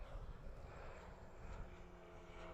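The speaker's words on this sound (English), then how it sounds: "At least that's a plane" A fixed-wing airplane drones steadily near the Christchurch airport, a faint, continuous engine rumble with no voices.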